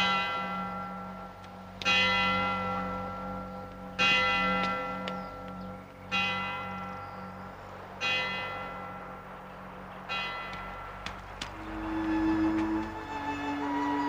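Church bell tolling from a convent chapel, struck roughly every two seconds in a steady rhythm with long ringing decay, moderately distant and alone with no talk.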